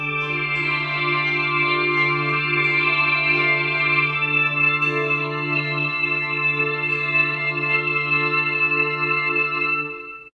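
Electric guitar played through an effects pedal on its shimmer setting: a steady, sustained wash of chords with airy, reverb-like overtones ringing above, loud and continuous for about ten seconds with no talking.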